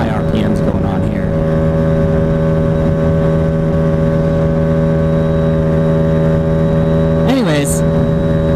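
A small motorcycle engine is held at high RPM, giving a loud, steady, close buzzing drone whose pitch dips and wavers briefly near the end.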